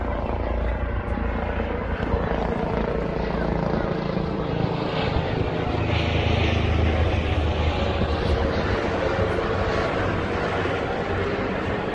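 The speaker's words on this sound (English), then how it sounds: "That's the helicopter, Frankie Jack." An air ambulance helicopter drones steadily and loudly throughout, its rotor thump continuous, with a voice speaking over the engine noise.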